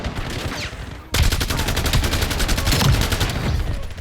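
Rapid automatic fire from the DS20 Mirage in Call of Duty Black Ops 7, a loud sustained burst of closely spaced shots that starts abruptly after a quieter stretch of game ambience.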